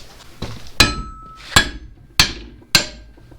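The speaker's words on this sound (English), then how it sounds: "where's my dang old hammer?" A hammer strikes a metal WJ hidden winch mount for a Badlands ZXR 5000 winch in a garage, four sharp ringing metallic blows spaced about half a second to a second apart, close and loud with brief decaying rings.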